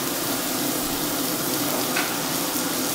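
Onions fry steadily in a pan while parotta is made, giving a constant close hiss and crackle of sizzling oil with no pauses.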